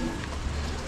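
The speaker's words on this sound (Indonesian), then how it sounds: "Dan semuanya kabut. Dan masih hujan." Rain falls during a foggy motorcycle ride on the climb toward Kintamani, Bali, heard as a brief steady hiss over a low rumble.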